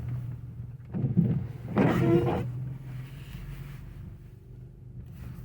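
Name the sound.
car interior noise while driving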